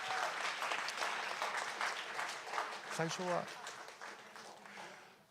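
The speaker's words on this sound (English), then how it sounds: "Please give Master Fukuzawa a big applause," Audience at a Subaru Cherry Blossom Festival kick-off concert applauding Master Fukuzawa, steady clapping from a crowd heard faint and at a distance, with a brief voice speaking partway through.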